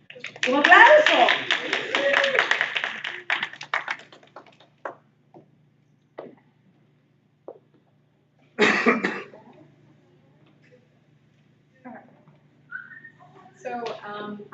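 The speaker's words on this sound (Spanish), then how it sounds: "Un aplauso" An audience at a multilingual poetry reading claps in a brief burst of applause lasting a few seconds before it fades, followed by scattered coughs, small noises and some speech.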